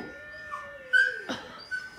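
A dog whimpers and yips close by, a few short high whines and one sharper yelp in quick succession over quiet background.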